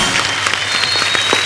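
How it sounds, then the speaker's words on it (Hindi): Brief, loud burst of audience applause on a comedy show stage, close and continuous clapping with no talking. "इस बात के लिए जोरदार तालियां बनती हैं।"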